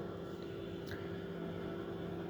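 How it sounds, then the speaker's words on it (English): A Slime tire repair kit compressor runs beside a flat, burst tire, pumping sealant in with a steady, even electric hum and drone that holds constant throughout, faint and alone. "Now we take the compressor near to the flat tire, burst tire, and turn it on"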